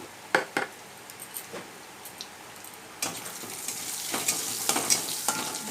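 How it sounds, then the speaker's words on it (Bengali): Whole spices (bay leaves, cracked cardamom, cloves and a little cinnamon) fry in a small amount of oil with scattered stirring clicks, then the sizzle swells louder and stays dense. "ভালো করে ভেজে নেব বেশি তেল দেব না"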